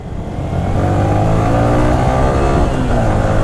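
A Yamaha R15 V3 motorcycle engine, a 2017 Indonesian-market bike, revs steadily on the throttle with a continuous loud, rising mid-range drone, up close and with no talking over it.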